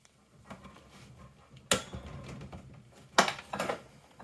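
Wrench torquing a bolt on a Predator 212 engine, sharp metallic clicks and clanks in a few separate bursts over a quiet background, close by.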